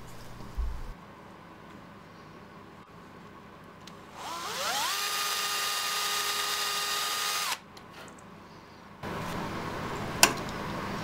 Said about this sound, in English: I like to drill locating holes to stop the veneer from slipping when glue is applied.